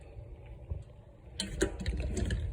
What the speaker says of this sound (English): now I'll pour it back in the pan